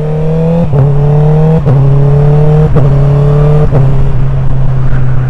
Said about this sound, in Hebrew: כאן אני אתן לכם לשמוע את הקוויק שיפטר